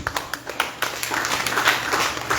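An audience claps for performers at a Hindu satsang in a Krishna temple, a burst of scattered hand claps that thickens into steady applause over a couple of seconds.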